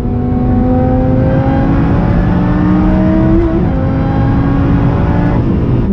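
A Ford GT engine in a driving video game accelerates in a loud, continuous roar with rising and shifting engine tones, steady and close with no talk over it.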